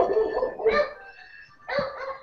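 A dog barks a few times in a room where people are recording a podcast, short yelps cutting in over ongoing talk and background noise.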